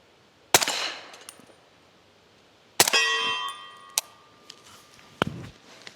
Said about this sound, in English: We've got some plates downrange to start going through some of this ammo.